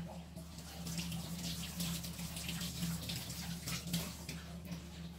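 Tap water runs steadily over a banana blossom being rinsed at a kitchen sink, a soft continuous splashing stream with faint irregular spatters, fairly quiet and close, with no talking.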